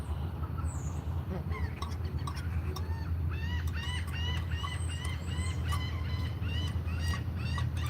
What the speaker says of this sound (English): Y'all hear these feral birds?